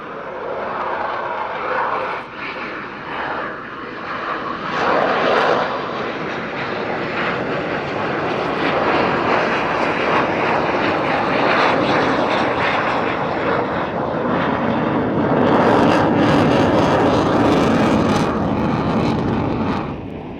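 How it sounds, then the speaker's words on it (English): A 727 Squadron F-16 fighter jet makes a very slow, high angle of attack flyby at Yeovilton Air Day, its engine a loud, sustained broadband roar that swells and holds steady throughout. "F-16 coming in for a very slow, very high angle of attack flyby"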